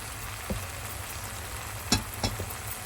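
Chili powder and spices frying in hot oil in a pan for pithu pappu kurma, a low continuous sizzle broken by a few sharp clinks of a spoon against the pan.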